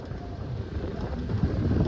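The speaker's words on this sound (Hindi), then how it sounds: "हवा चलती है" Wind blowing at the Chanshal mountain pass, a steady low rumbling roar buffeting the microphone, building slightly toward the end with no talk over it.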